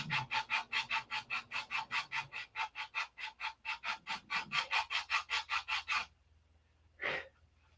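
Hand sanding the clear nose glass of a P-47 model, a fast run of about two dozen even back-and-forth rasping strokes, close and steady, ending with a pause and one last short rub.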